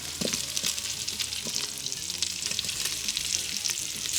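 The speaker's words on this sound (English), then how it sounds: "We're just browning it. We're just getting some color on it." Smoked sausage sizzles and browns in an Instant Pot, a steady dense frying hiss with soft crackles and faint stirring, close and continuous with no voices.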